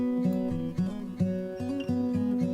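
Processed acoustic guitar riff, run through compression, EQ, cassette-style saturation and distortion, plays a repeating plucked pattern with steady sustained low notes, close and fairly loud with no voices.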